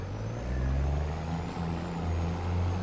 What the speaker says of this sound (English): And the Jake brakes on?